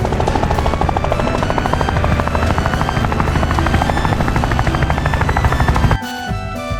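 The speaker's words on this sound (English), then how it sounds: "Here's a yellow helicopter flying so high." A loud, steady rapid chopping of a yellow toy helicopter's rotor, an electronic sound effect, stopping abruptly near the end.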